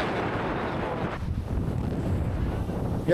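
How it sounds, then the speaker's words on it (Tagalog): Strong wind on a secluded beach in San Juan, Batangas, buffeting the microphone in a constant low roar, with gusts surging and rumbling throughout. "Ang lakas ng hangin."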